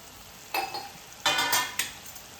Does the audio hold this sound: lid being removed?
yes